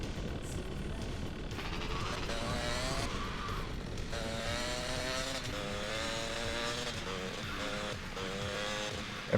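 Motorcycle held in a long wheelie in GTA Vice City Stories on PS2, its engine a sustained buzzing whine with rising and falling pitch sweeps, steady and fairly quiet throughout.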